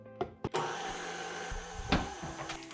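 Cake batter being stirred and mixed in a bowl, a steady whirring churn with a few sharp knocks at the start and a scrape partway through, close and fairly loud.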